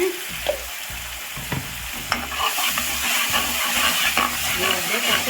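Ground tomato sautéing in a pan for a potato stir-fry: spatula scrapes and stirring over frying that swells into a loud, steady hissing sizzle partway through, heard up close without speech.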